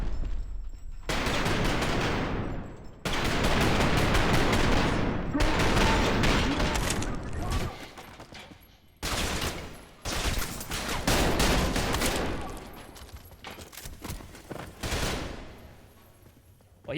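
Rapid full-auto Glock pistol fire in the shooter game Trepang2, loud sustained bursts of gunfire in several long volleys separated by brief pauses, with the shooting dominating throughout.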